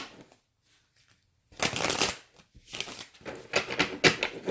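Cards being shuffled in two quick riffling bursts after a short quiet pause, close and crisp.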